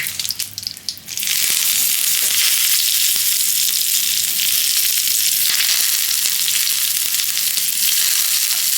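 Curry leaves and dried chillies dropped into hot oil for dhokla tempering, starting with a sharp crackle and settling into a loud, continuous hissing sizzle that runs steadily to the end, with no speech.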